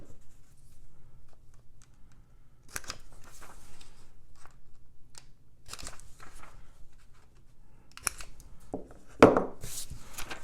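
Paper sewing pattern notches being punched or snipped out, a few sparse crisp cuts and rustles of paper against quiet room tone.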